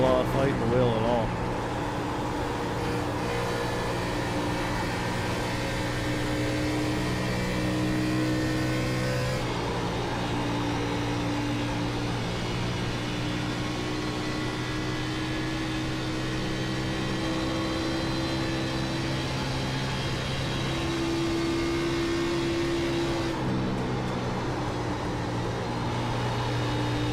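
A race car engine drones steadily in an Xfinity Series sim race at Las Vegas, holding a sustained high tone with gradual pitch shifts as the throttle is worked, with a race commentator talking over it.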